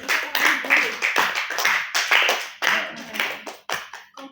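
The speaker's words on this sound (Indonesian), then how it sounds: "Oke, beri tepuk tangan dong." Students applaud in a classroom, a lively round of close handclaps lasting several seconds, with a voice speaking over the clapping.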